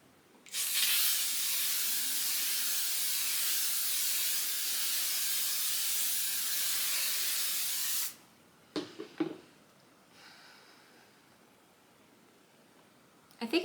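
Makeup setting spray hisses out in one long, close, continuous spray lasting several seconds, followed by faint handling clicks and rustles in a quiet room.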